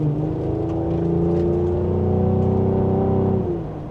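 The engine and exhaust of a 2026 Cadillac CT5-V rise in a smooth, building tone through gentle acceleration, then ease off near the end. The sound is steady and moderately loud, with no voices.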